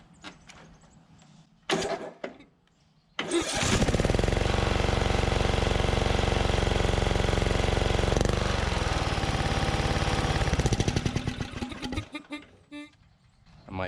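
A Craftsman DYT4000 lawn tractor engine, an abandoned machine being revived, sputters briefly, then catches and runs loud and steady for about eight seconds before cutting out with a few stumbling pulses.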